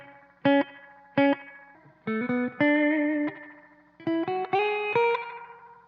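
Electric guitar played through an EVH 5150 Iconic amp with its reverb engaged: several sustained chords struck one after another, each ringing out with a short, springy reverb tail, with no talk.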